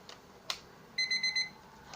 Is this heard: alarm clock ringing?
yes